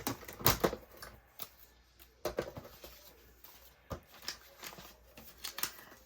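Scissors cut through scrap paper for a Christmas junk journal, several close, crisp snipping strokes spaced irregularly with faint paper handling between them.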